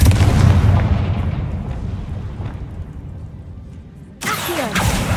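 Confringo blasting spell in a Harry Potter video game: a loud, near explosive boom opening the moment, its rumble decaying over several seconds before a fresh burst of crackling noise near the end.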